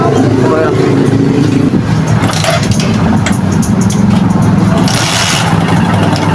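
A Rouser 135 motorcycle engine idles steadily with a faint, irregular knocking in its rumble from an engine fault, and background chatter runs throughout.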